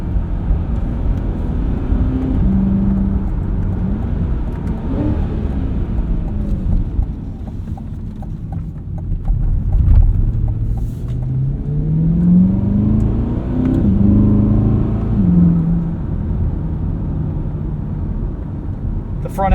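A 2024 Chevrolet Corvette E-Ray hybrid sports car accelerating hard, then decelerating off throttle, heard from the cabin as a low engine rumble whose pitch climbs and falls in sweeping waves.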